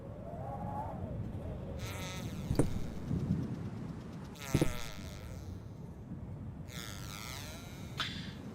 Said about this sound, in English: that sounds like a very flatulent bee. Rather than a squeaky hinge.